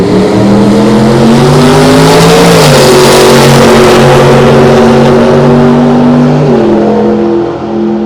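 A Chevrolet drag car at an old-time drag race accelerates hard, its loud engine roaring close by with steady rising harmonics and a brief shift-like dip midway before pulling on.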